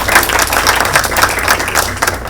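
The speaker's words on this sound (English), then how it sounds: "So let's give a big applause to them" An audience applauds at a gathering of Bangladesh's leaders, dense sustained clapping from many hands at an even level, continuing without a break and without speech.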